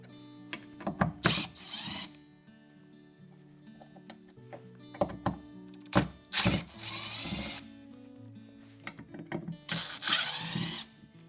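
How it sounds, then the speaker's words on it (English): Four screws are backed out of an LED grow light with hand tools: quiet, intermittent bursts of rapid ticking and ratcheting, separated by short pauses and faint handling clicks. "all we're going to do is just gently back out all 4 screws"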